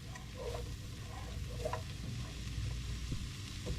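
A generous amount of garlic sizzling in a pan with chicken broth and a little vinegar, a soft steady frying hiss with faint stirring sounds and no talking.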